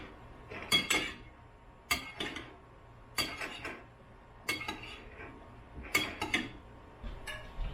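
A large holiday serving spoon mixing beans in a dish, giving repeated clanking scrapes against the dish in roughly regular bursts about a second apart, close and fairly loud.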